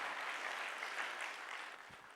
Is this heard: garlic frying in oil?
no